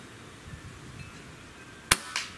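A Gamo Arrow multi-shot PCP air rifle fires at a backyard target in a quiet setting: one sharp, close crack, followed a moment later by a fainter impact snap.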